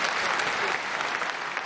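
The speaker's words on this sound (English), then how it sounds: "The crowd applauded warmly as the Pope, visibly frail but smiling, made his way from the altar." A large crowd at the Vatican applauds the Pope at a Jubilee mass, a dense, continuous wash of clapping heard from a distance with no break.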